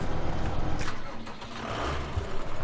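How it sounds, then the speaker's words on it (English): Tractor engine in the Farming Simulator 2015 farming game, a steady low mechanical rumble running throughout at a fairly constant level, with a brief rise partway through. "jump into our Sammy tractor"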